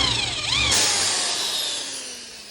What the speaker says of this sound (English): I immediately drilled a hole for the bolt and nut.